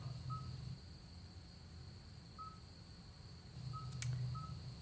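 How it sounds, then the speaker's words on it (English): Short, pure beeping calls of a midwife toad sound at intervals over a steady chirring of insects in France, each call brief and clear, repeating a few times. "it's the sound of a midwife toad"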